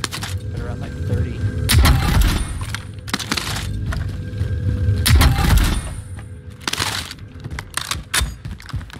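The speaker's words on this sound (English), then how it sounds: "I definitely hear gunshots" Gunfire in Call of Duty Warzone, several bursts of sharp cracks and booms in irregular clusters, fairly loud, with occasional voices.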